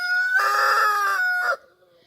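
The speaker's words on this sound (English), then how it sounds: "This is the rooster" A farm rooster kept with hens crows once nearby, a loud harmonic cock-a-doodle-doo that holds strongly for about a second before a short final note and a quick fade into quiet.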